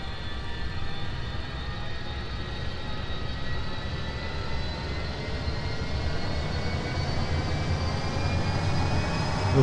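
Jet engines of an aircraft in the X-Plane 11 flight simulator game make a steady, dense roar that builds slightly over the clip, heard alone without talk.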